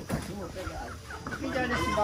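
Free-range chickens on a family farm cluck nearby while people talk over them, the clucks mixed in with the voices.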